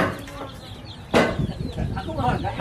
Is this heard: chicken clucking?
yes